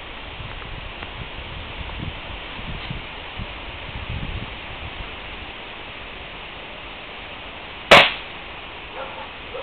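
A single sharp gunshot from recreational shooting cracks once, loud and close, against a quiet outdoor hiss with faint rustling.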